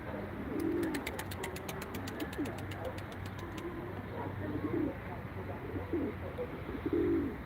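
Tumbler pigeons coo in low, soft bursts as a flock flies in, with a rapid run of clicking or wing clatter early on and faint voices and distant traffic underneath.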